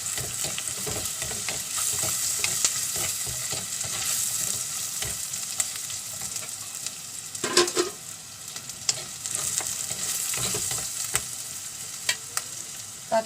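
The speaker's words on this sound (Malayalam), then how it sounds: "ഇഞ്ചി പച്ചമുളക് വേപ്പില്ല ഒന്ന് പാടി വരട്ടെ" Ginger, green chilli and curry leaves sauté in a pan for a mackerel chilli curry, a close, steady sizzle punctuated by repeated spatula scrapes and stirring knocks over thirteen seconds, with no talking.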